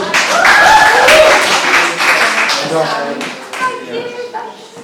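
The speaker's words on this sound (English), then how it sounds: "Big round of applause." A small audience claps for a performer at a mental health and homelessness event, lively applause strongest at the start and fading, with voices talking and calling out over it.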